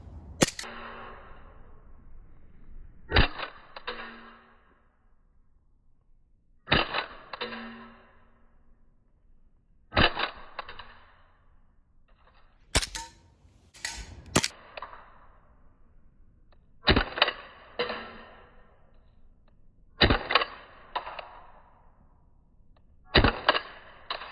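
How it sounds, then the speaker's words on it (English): Airsoft guns fire single sharp shots, about ten of them spaced a few seconds apart, each a crisp crack with a short ringing tail, some closer together near the middle, against a quiet outdoor background. "Now we're just going to be doing some shooting montages."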